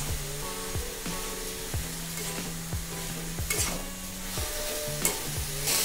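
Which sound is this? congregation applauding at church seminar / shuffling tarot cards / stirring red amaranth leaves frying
stirring red amaranth leaves frying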